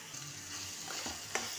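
Tomatoes sautéing with salt in a pan for a kovakkai kulambu, a soft steady sizzle with a few scraping stirs and one sharp clink near the end, heard alone.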